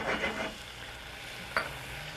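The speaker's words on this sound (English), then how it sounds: "I'm going to deglaze this now, just a little bit with some rice wine vinegar." A hot chicken stir-fry pan with hoisin and garlic is deglazed with a splash of rice wine vinegar, giving a bright hissing sizzle up front that settles into a steady low fry, with a sharp clack of a utensil partway through.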